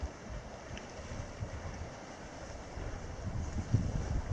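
Steady wind rushes past at a lakeside campsite in the Boundary Waters, a continuous low buffeting roar with microphone wind noise and slight gusting, and no talking.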